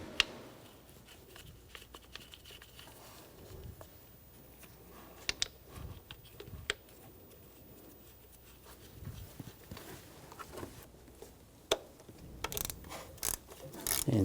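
During a water pump replacement on a 2010-2014 Volkswagen GTI, two screws are started and tightened on a bracket. Faint, scattered ratcheting clicks and metallic taps sound close in a quiet space.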